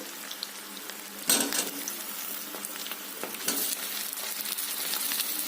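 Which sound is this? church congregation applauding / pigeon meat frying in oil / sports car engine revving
pigeon meat frying in oil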